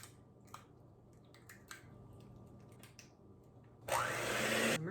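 Electric mixer starting up to blend butter, white and brown sugar and eggs for banana bread, a loud whirring buzz that kicks in abruptly after several quiet clinks and taps.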